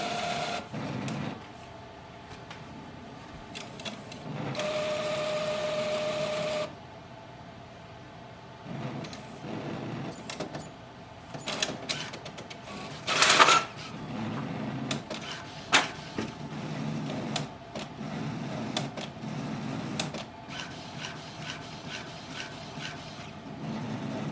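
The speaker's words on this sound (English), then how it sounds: "Printer just printed the quality check sheet." A Brother MFC-J1260W inkjet printer whirs and clicks through a quality check page, with a sustained mechanical feed in the middle and intermittent clacks and motor bursts.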